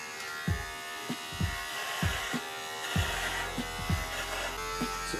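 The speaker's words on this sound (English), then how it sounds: "Beard trimmer first." Electric beard trimmer shaving a beard up close: a continuous buzzing drone with repeated rhythmic dips and rasping bursts as the blades pass over the stubble, loud and steady throughout.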